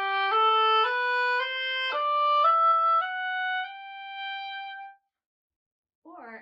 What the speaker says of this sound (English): On the oboe, it could sound like this.